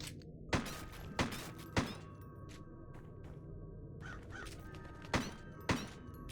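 Crows caw in the video game Crow Country, with five sharp, loud calls spaced irregularly over a low, steady ambient hum.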